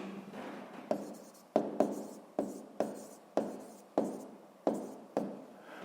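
Pen or pencil writes numbers on paper for a sixth-grade math exercise, with about ten distinct sharp strokes in an even rhythm and soft rubbing scratches between them, close and quiet.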